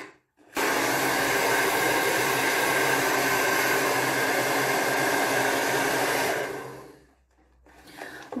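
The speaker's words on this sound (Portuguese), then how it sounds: "Agora, eu vou secar bem esse cabelo e mostrar o resultado para vocês." A hair dryer blows hair dry in one steady, loud, continuous whoosh that starts abruptly, holds for several seconds, then cuts off, leaving near silence.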